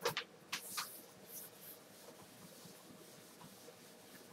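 Eraser rubbing out a drawing of the heart on paper: a few brisk scrubbing strokes at the start, then softer, faint rubbing, quiet and close with no talk.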